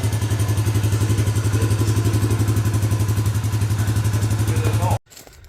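A Suzuki Vinson 500 quad's engine runs at a steady, loud, rhythmic idle with a fast regular pulse after an oil change, then cuts off abruptly near the end.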